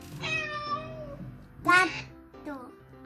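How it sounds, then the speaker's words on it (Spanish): A cat meows a few times, a drawn-out mew followed by a louder, brighter cry and a short final one, with a voice talking softly around it. "Un gato."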